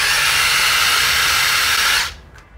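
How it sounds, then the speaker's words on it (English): A handheld electric drill runs steadily and loudly for about two seconds, a harsh whirring hiss, then cuts off abruptly, leaving a faint brief tail afterward. "The electric drill."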